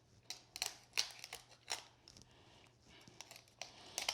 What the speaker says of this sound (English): Okay, we're just cutting down the backbone.